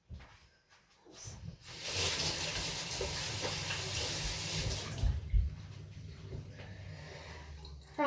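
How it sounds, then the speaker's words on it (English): Tap water runs steadily into a sink as hands are washed beneath it, a continuous close splashing hiss lasting several seconds with a brief bump partway through. "I'm just going to wash my hands."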